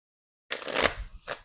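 A deck of cards gets a quick shuffle during a budgeting card game, a close riffling burst about a second long followed by a short second flutter, with no talk.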